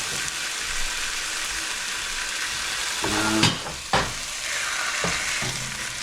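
Hotdogs frying in oil in a pan, a steady sizzle that swells in the second half, with a couple of sharp clinks or stirring knocks near the pan.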